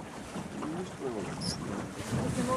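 Wind rushes and buffets across the microphone out on a sailboat, with water swishing along the hull, while voices murmur faintly underneath.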